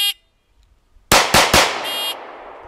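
Three sharp gunshots fired in quick succession during a shield shooting drill, close and loud, preceded by a brief electronic timer beep and followed by another short beep as the reports ring out.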